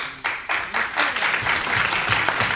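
A keynote audience at a Texas United Methodist Women's legislative event breaks into applause, a close, dense burst of clapping that starts abruptly and holds steady for a couple of seconds.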